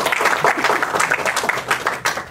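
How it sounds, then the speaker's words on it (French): Conference audience applauding a staff member, a short burst of dense clapping from a seated crowd at close range. "Merci Isabelle, vous pouvez l'applaudir, Isabelle."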